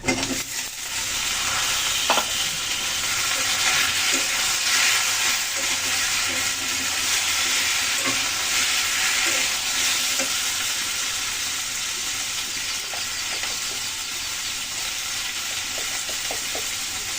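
Tomatoes fry in hot oil in a pan for a dal and tomato bhaji dish, a loud, continuous hiss and sizzle running steadily throughout, with a few faint clicks of a utensil and no talk.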